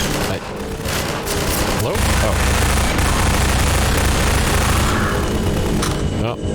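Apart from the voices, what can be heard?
gunfire in the video game Half-Life 2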